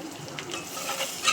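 Chili powder, turmeric and other spices stirred and frying in a pan for a dried fish curry, a soft continuous sizzle with scraping stirs that build toward the end.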